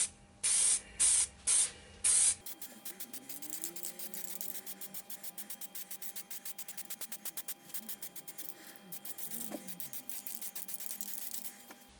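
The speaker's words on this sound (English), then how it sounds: "I'm going to spray inside the bowl as well" Four short bursts of satin black aerosol spray paint hiss onto a turned wooden bowl, followed by quieter background with faint clicks and a steady hum.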